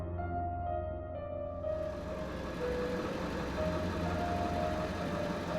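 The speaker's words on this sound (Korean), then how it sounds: "제가 있는 배로 접근하는 다른 배의 엔진 소리가 들려왔습니다." A boat engine drones steadily as it approaches another boat at sea, a low continuous hum with faint tonal whine, moderately loud and unbroken, with no voices.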